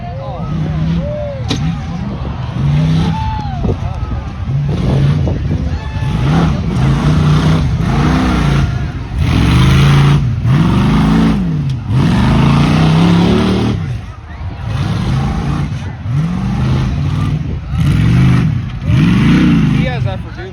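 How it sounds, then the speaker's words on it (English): A 1996 Toyota Tacoma truck engine roars and revs hard at a tuff trucks off-road competition, loud and continuous with repeated surging pulls as it works the course, under crowd and announcer talk. "see James Gray from Maxitani, Pennsylvania, driving a 96 Toyota Tacoma."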